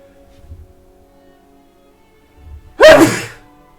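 A single loud, close sneeze bursting out after near silence, with a faint voice murmuring before it.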